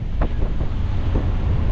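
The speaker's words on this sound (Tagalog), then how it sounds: "Malamig pa rin dito ngayon, malakas ang hangin." Strong cold wind buffeting the microphone on a pilgrimage walk in Batangas City, a loud continuous low rumble with gusty thumps, alone with no voices.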